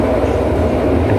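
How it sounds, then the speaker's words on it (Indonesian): Ranggajati business-class passenger train running at speed, recorded from inside the rearmost carriage: a loud, continuous low rumble and rattle of wheels on track, with no voices. "Jadi luar biasa kecepatan daripada kereta api ini, maksimal sampai 120 km per jam."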